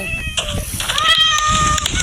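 Several cats meow in a Minecraft video game, short high mews repeating over one another, with a person talking over them.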